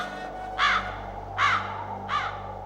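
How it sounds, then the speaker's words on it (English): Old crows caw three times, spaced evenly, each a harsh call over a steady low hum and background hiss, with no voices. "no birds ever sing excepting old crows"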